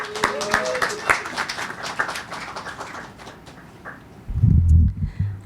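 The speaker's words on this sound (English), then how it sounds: "So please keep the applause going for Marie." An audience at a poetry showcase reading claps for several seconds, and the applause gradually thins out. It ends with a louder, low, muffled burst of sound.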